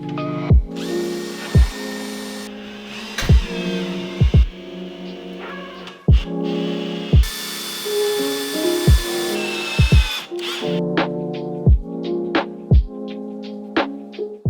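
A power drill drives screws into plywood kitchen cabinet panels for a VW T4 camper van conversion, its motor whirring in repeated bursts of several seconds, each ending with sharp clicks and knocks as the pieces are fastened together.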